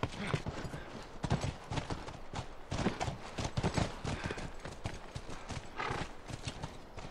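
Horse hooves clip-clop steadily in The Last of Us video game, a busy rhythmic clatter of several horses close by, with a neigh among them and game ambience behind.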